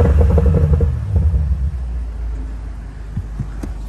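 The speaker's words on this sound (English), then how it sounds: "my favorite thing about the M8s is the way it sounds" A BMW M8 engine gives a deep, steady low rumble with a pulsing throb, loud at first and easing slightly partway through, with no talking.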